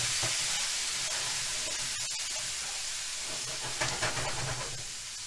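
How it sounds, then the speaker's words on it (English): Juice poured into a hot pan to deglaze browned chile verde; a loud, continuous sizzling hiss with steam, close up and without talk. "I'll add a little juice to deglaze the pan."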